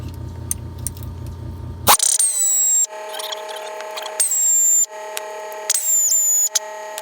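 Air tool spins out the center bolt on an aluminum Ford C6 transmission in reverse, with a loud sharp burst that starts after near-silence, then three more whirring bursts of about a second each, separated by short pauses.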